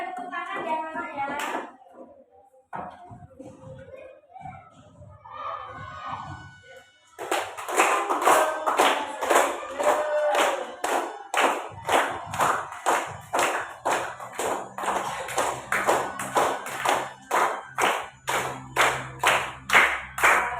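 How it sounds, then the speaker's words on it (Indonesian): Schoolchildren stand and clap their hands in a steady rhythmic beat as they begin singing a national song, the loud even claps following a short stretch of an adult speaking. "Ayo semuanya berdiri nanti sambil tepuk tangan ya anak ya."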